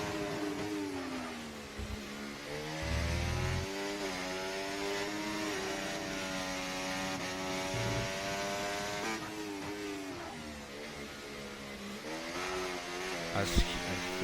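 Race car engine in a sim racing event set in Australia, droning steadily with rising and falling pitch through gear changes, including a quick downshift, with a commentator talking over it throughout.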